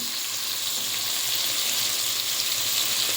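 Eggs frying alongside shrimp in a pan while cooking shrimp pulao give a loud, steady, close sizzle that holds unbroken throughout, with no voices.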